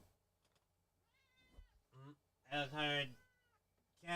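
A cat meows several times, close and clear, with a rising cry and louder drawn-out calls in a quiet room.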